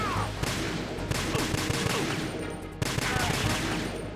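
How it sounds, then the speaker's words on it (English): Rapid video-game gunfire in Metal Gear Solid 2: Substance as lights are shot out, a dense run of sharp cracks with short gaps, fairly quiet and steady throughout. "someone's shooting those lights"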